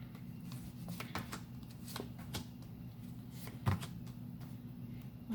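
Tarot cards are shuffled close up in soft riffling bursts and light slaps over a low steady hum, with one brief louder knock partway through.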